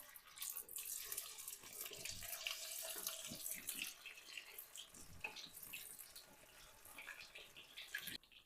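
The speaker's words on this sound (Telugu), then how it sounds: "ఇప్పుడు వేడి నూనెలో మనం ష్రింప్ వేసేసుకుందాం" Shrimp fry in hot oil with a continuous hissing sizzle and scattered crackles, faint and steady throughout. No one talks.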